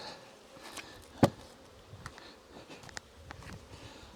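Honey bees around an open nuc hive during an inspection make a soft, steady buzz, punctuated by a few sharp close knocks, with no talking.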